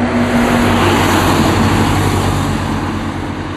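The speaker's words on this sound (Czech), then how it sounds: "Jezdí tady spousta aut, jak je slyšet." Loud, close traffic roar as a car drives by on the road below the Tofana di Rozes rock pillars, engine hum steady then fading slightly at the end.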